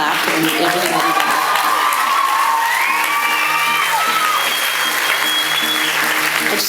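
Concert audience at a show at The Tivoli claps and cheers loudly throughout, with whoops and rising shouted voices over a thick continuous wash of applause.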